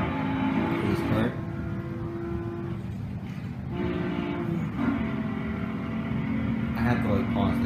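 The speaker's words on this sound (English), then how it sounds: "the car engine sound was just glitching out" In Need for Speed Most Wanted (2005), a car engine sound glitches into a sustained droning, horn-like buzz that stutters and shifts over several seconds, with someone talking over it.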